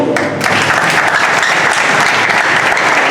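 A church congregation applauding, with loud, dense, sustained clapping that fills the whole short clip.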